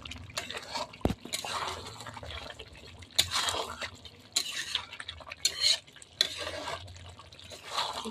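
Chicken is stirred in a pan with a little water while cooking, giving quiet wet scraping and sloshing with irregular bursts of spoon-against-pan clatter and brief sharp knocks.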